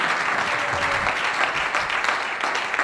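A church congregation claps in a dense, steady round of applause that fills the room for a few seconds.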